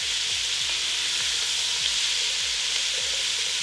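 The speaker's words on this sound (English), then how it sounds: "our veggies have been sauteing for about 5 minutes and they're softened now" Vegetables sauteing in a pan for beer-braised beef short ribs give a steady, loud broadband sizzle that runs unbroken throughout, with no talking.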